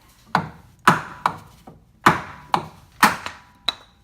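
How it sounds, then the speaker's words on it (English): A hammer strikes a wood block held against a car's ball joint to pop it loose, giving seven sharp, loud knocks at an uneven pace with short pauses between them. "hammer and wood method."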